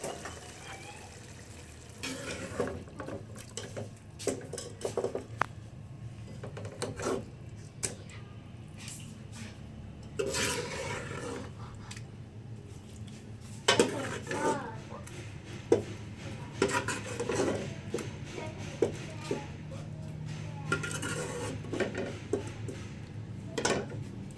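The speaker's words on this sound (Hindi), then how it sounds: "अब मैं इसको बाउल में निकालती हूँ।" Palak gosht scooped from a cooking pot into a bowl, with repeated scrapes and clinks of a spoon on metal, quiet and close, spread irregularly over the stretch.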